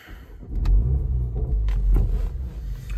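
A 2019 BMW M135i fired up with keyless start: a short crank, then a loud, deep rumbling catch that settles into a steady close idle, with faint clicks around it.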